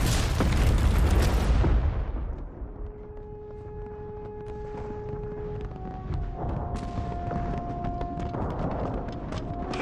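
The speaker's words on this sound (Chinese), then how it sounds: "敌军又开始轰炮了。" Wartime artillery shelling: a heavy, rumbling explosion at the start that fades into a lingering roar, with a high whining tone and scattered later impacts in the background.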